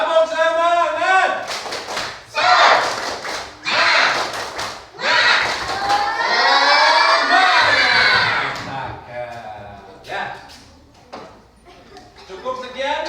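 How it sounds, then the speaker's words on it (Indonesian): A class of children in a coding lesson does a spirit clap, clapping in a rhythmic patterned chant, with bursts of shouting voices and thuds, loud and close, ending in scattered cheers. "Coba tepuk semangat."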